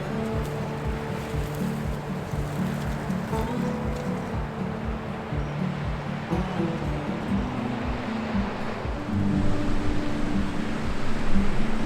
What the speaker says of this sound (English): I'm all the way to the ocean's edge now